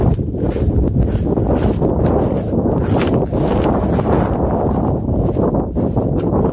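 Steady wind pounds the microphone beside a lake at a crowded campground, a loud, low roaring rumble with small gusty swells and no clear voices.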